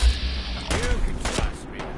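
Gunfire in Fallout 4: a few sharp shots and bursts ring out over background game noise, mixed with some speech.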